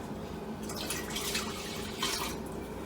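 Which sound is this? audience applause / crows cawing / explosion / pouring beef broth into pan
pouring beef broth into pan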